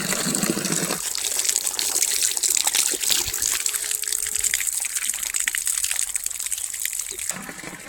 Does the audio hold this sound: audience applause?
no